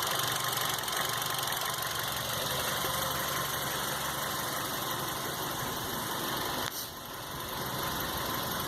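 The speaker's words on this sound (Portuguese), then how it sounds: "Tem hora que ela dá uma encurtada, que possivelmente por causa da falha dos outros cilindros" A Hyundai i30 engine idles with a misfire, running steadily and fairly close with a rough, uneven beat and a brief dip in level near the end.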